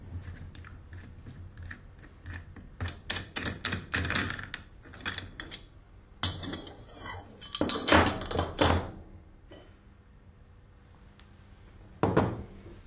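Parts being taken off a valve tool set give irregular clicks, taps and knocking thunks up close, with a dense flurry of clatter in the middle and a last sharp knock after a quiet pause.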